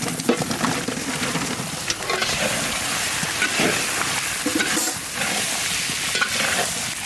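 Long-sliced potatoes go into a hot pan with salt and turmeric, giving a dense close sizzle with steady stirring and scraping throughout.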